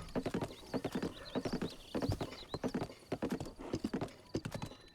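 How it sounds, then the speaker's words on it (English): Horse hooves clip-clop at a steady gallop in Zelda Breath of the Wild, each hoofbeat crisp and close, with soft whinny-like calls and faint game music running underneath. "That's the advantage of driving a horse, right?"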